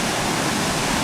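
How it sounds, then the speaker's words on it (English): Floodwater rushes in a steady, loud roar beneath a town centre, a dense continuous torrent with no other sounds. "it's just impossible to describe the amount of water that's going under there"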